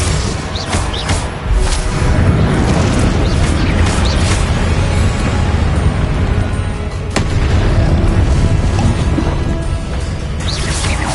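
Repeated Confringo blasting-spell explosions in the video game Hogwarts Legacy on PS5 make loud, dense booms and crashes that rumble almost without a break, with a sharp burst near the middle.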